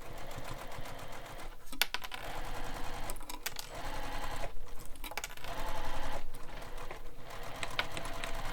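Sewing machine basting the sides of a backpack with a long stitch length, running in steady mechanical bursts with brief pauses and a back stitch at the mark, close and fairly loud.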